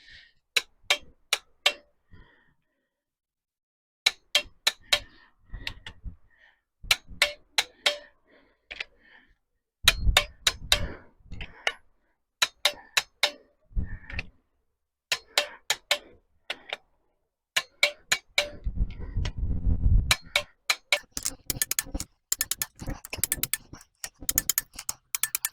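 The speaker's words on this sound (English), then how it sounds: "Now we can torque it correctly to spec." Bolts on a Chevy small block engine being torqued in sequence, sharp metallic clicks from the torque wrench in quick clusters with pauses between, close and clear with some ratcheting and handling noise.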